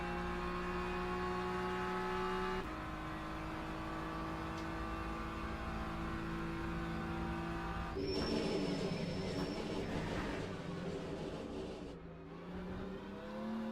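Onboard a BMW GT3 race car in Le Mans Ultimate at Bahrain, the engine drones steadily at high revs, then downshifts with a sharp rise and fall in pitch before pulling hard again, loud and close throughout.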